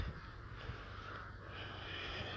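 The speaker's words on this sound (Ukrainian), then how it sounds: "мігрують, мабуть, кудись ворони" Crows cawing in a flock outdoors, their harsh calls blending into a steady background wash with no voices.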